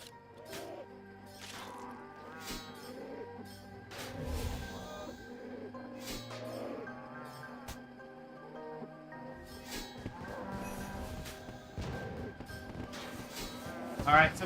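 Cattle mooing in a video game, several low drawn-out moos spread across the stretch under quiet game sounds and hits, fairly faint, with a person talking at times.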